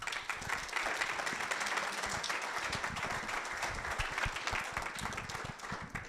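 Audience applause at a student innovation final pitch event, a steady wash of clapping from a crowd held at moderate level throughout, fading slightly at the end.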